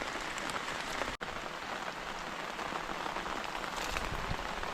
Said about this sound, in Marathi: पाऊस बघा पाऊस पाऊस मध्ये भरपूर पाऊस आहे